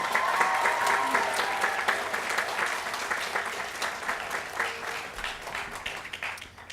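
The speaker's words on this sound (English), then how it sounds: "let's give them a round of applause." Audience at a 2017 college commencement ceremony applauding the faculty, a dense, sustained round of clapping from a large crowd that holds steady and slowly thins toward the end.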